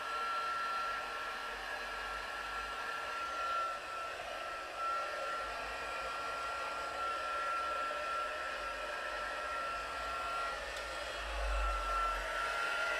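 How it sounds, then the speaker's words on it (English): A heat gun used for card making runs steadily for the whole stretch, a continuous airy whir with a faint high whine, held at a fairly even moderate level. "I'm just going to warm my heat gun up away from the microphone."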